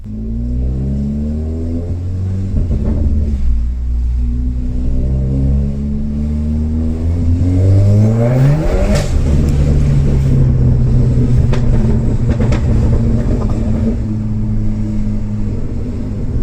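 A Cupra Leon, stage 2 tuned to 400 horsepower, accelerates hard with wheelspin, its engine note climbing loudly and close by through the gears over a constant rumbling roar.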